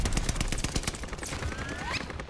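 Pistol fire in a competitive bomb-mode shooter match, a fast rhythmic string of sharp close shots running continuously for about two seconds, with no talking over it.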